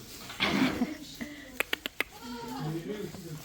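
Goats bleat in a barn, one wavering call near the start and another toward the end, with sharp clicks and low chatter in between.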